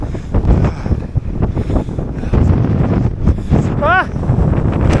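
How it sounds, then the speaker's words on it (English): Strong wind on a wet, windy Welsh mountain ridge on Moel Siabod roars in gusts and buffets the microphone throughout, loud and close. A person speaks under it and gives a brief whoop. "What's that wind?"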